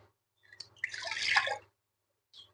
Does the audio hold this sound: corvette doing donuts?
no